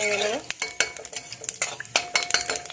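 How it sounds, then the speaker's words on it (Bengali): Cumin seeds hit very hot oil in a pan, with a light crackling sizzle under a series of sharp metallic clinks and stirring knocks from a utensil against the pan. "আমার তেল খুব গরম হয়ে গেছে এখানে আমি অল্প একদম জিরা নিচে জিরাটা দিয়ে দেবো তেলের মধ্যে"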